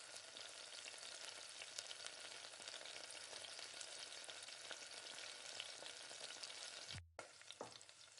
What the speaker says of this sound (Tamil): இப்போ நல்லா கைவிடாமல் கலந்து விட்டு